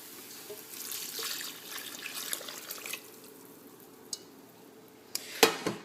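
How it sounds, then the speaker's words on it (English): Chicken broth is poured into rice in a pot for Puerto Rican arroz con pollo, a soft rushing splash followed by scattered stirring clinks of a utensil against the pan. "then you want to add the water from the chicken that you boiled earlier"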